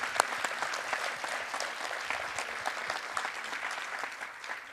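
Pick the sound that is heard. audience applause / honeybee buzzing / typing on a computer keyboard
audience applause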